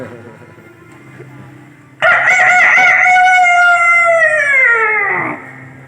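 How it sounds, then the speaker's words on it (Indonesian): A rooster crows loudly and close by, one long drawn-out call that falls in pitch at the end, following quieter background noise. "suara ayam jantan makin keras berkokok"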